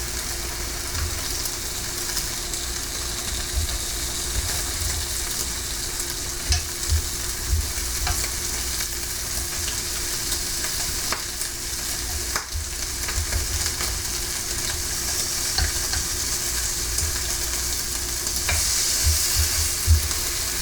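Turkey bacon sizzles and crackles steadily in a hot skillet, with occasional scraping and stirring sounds, close and continuous with no talking.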